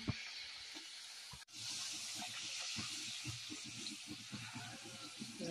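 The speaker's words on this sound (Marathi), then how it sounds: "अशा प्रकारे पुरी तळून घ्यायची" Puri dough frying in hot oil for sweet laddu gives a continuous close hiss and sizzle, with light bubbling crackles and small knocks throughout.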